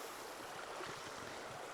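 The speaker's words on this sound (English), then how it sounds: "So I'm going to start at the bottom of this creek now." Steady, close rushing of water from a mountain creek fills the air without letup, an even broadband wash with no voices.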